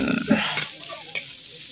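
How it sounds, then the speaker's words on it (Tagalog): Squeezed banana blossom, salted and rinsed with vinegar, stirred into a cooking pot outdoors, giving a brief sizzling scrape and soft stirring that fade to a quiet crackle. "Lagyan na naman natin yung ating piniga na puso ng saging."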